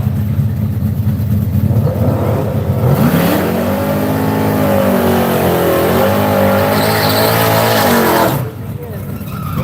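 Race cars at Seattle International Raceway roar loudly together as the race starts, a dense engine drone with rising revs, while an announcer talks over it throughout.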